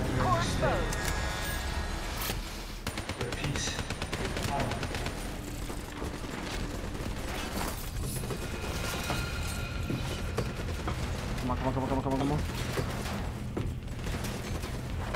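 Automatic weapon fire and explosive battle noise in the Call of Duty: Black Ops 3 campaign mission Hypocenter, sustained bursts mixed with mechanical clanks and game voices over a loud combat soundtrack.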